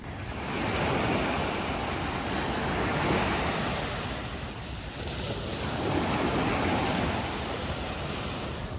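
Baltic Sea waves roll onto the beach at Sopot in February. The surf swells and recedes in a steady rhythm, with strong wind buffeting the microphone.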